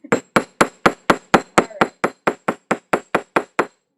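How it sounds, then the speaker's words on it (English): The flat face of a hammer strikes jewelry metal in sixteen loud, evenly spaced ringing blows, close and with no talk, during a demo of bulk jewelry supplies. "Turn your volume down now if you don't want to hear the hammer noises."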